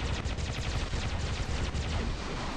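A suppression weapon in War Robots fires as a dense, rapid stream of blasts, loud and continuous throughout with no talking.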